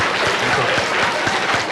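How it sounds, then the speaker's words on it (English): A school assembly audience of seventh and eighth graders claps together in a brief, steady burst of applause, fairly close and even, with faint voices underneath. "Would you clap for yourselves, please?"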